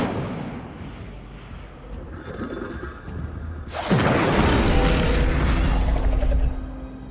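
A fiery Incendio spell blast erupts in the Hogwarts Legacy video game, a sudden loud roaring burst midway that swells and sustains over a rumbling game backdrop.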